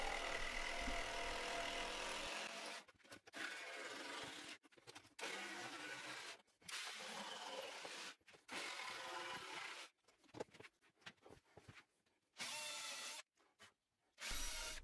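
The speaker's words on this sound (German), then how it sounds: "Und dann wird nochmal gebohrt, gesägt und gefräst." Power tools drill, saw and rout wood while fitting a router table insert plate, loud bursts of whining machine noise broken by short silent gaps between cuts.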